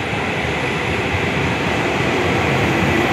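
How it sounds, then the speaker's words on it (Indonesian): Commuter train bound for Jakarta Kota at Juanda station at night, a steady loud roar of rolling cars and motors filling the platform, with no voices. "Ini ada kereta nih yang ke Jakarta Kota."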